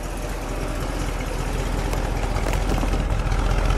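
A 1957 Buick Roadmaster convertible idles steadily nearby, a smooth, quiet low rumble with soft exhaust burble and no voices.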